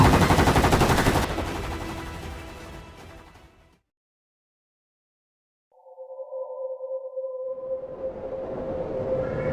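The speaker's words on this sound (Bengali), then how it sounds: "আদিত্য টানা গুলি চালাচ্ছে" Dramatized continuous gunfire for a thriller story rattles loudly in a dense burst, fades into silence, then a steady electronic tone and rising noise follow.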